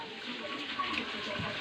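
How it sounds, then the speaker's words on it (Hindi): Rain comes down steadily as a soft, hissing wash of falling water, fairly quiet and continuous without a clear break. "देखिए बारिश हो रही है"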